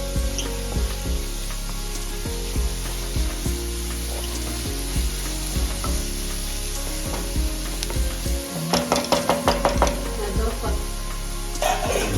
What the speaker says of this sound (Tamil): வெங்காயம் வதங்கிக்கிட்டே இருக்கு